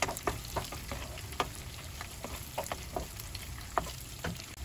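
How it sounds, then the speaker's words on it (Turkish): Meat and peppers sautéing in a pan for a Diyarbakır meftune dish, giving a steady soft sizzle with scattered sharp ticks and pops from stirring, fairly quiet and close, with no voices. "Etimizi biberimizle beraber de yaklaşık 3-4 dakika kavuralım."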